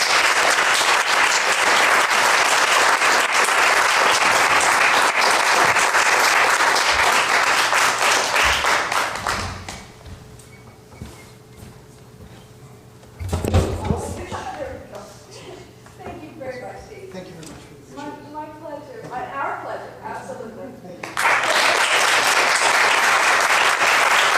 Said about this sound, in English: Maybe put our hands together and applaud for Steve Wilson.